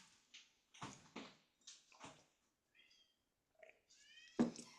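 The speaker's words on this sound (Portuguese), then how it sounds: "A minha gatinha tá miando aqui na porta que quer entrar" A pet cat meows repeatedly at a closed door, several distinct short cries spaced irregularly, fairly close and clear against a quiet room.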